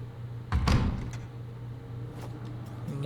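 A door in the horror game Tormented Souls opens with a single heavy thud and scrape, followed by faint mechanical clicks against a low, steady hum.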